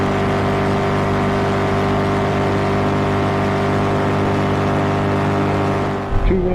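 A hot rod drag car engine is held wide open near 8,000 RPM, a loud, sustained, harmonic roar that stays steady for several seconds before cutting off abruptly at the end.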